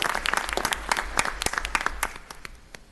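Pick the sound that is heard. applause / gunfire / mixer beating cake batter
applause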